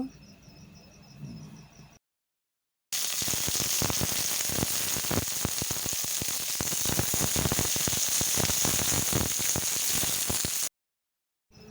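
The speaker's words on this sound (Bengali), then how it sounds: "এরপর আমি কেটে রাখা বেগুন ভেজে নেব" Cut brinjal fries in hot mustard oil in a kadai, giving a loud, dense, crackling sizzle that holds steady for about eight seconds after a short gap. Quieter background sound comes before it.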